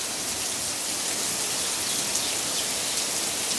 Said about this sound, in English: It is raining, like really raining.